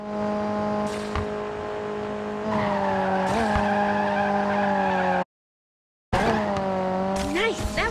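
Car tires skid and squeal through long drifts in the Need for Speed Mobile racing game, with high sustained screeches over a droning engine, a short silent gap, then more skidding and revving.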